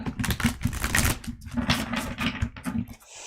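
A large deck of tarot cards is shuffled in a rapid series of crisp, papery riffling clicks lasting about three seconds, close and fairly loud, then trailing off.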